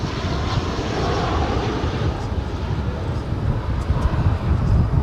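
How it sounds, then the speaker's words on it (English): A Frontier Airbus A321 jet taking off, a broad, loud roaring rumble of engines that holds steady and builds slightly, with some wind buffeting at the microphone and no talking. "we got to zoom into the Frontier A321"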